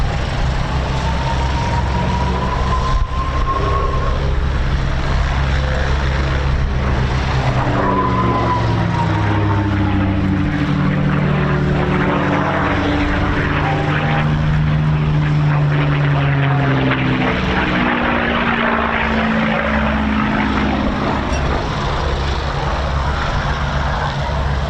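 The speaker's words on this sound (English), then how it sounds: "the later series Packard Merlins that powered aircraft such as the P51D really were the outstanding power plant for the Mustang" A P-51D Mustang with a Packard Merlin engine flies at the RAF Cosford air show, its propeller engine droning steadily and loudly throughout while the pitch rises and falls as it passes overhead.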